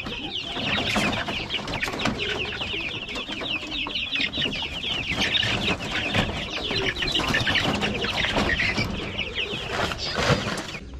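Newly hatched Rhode Island chicks from an incubator peep constantly in a dense, overlapping chorus of high chirps, close and fairly loud, with no talking.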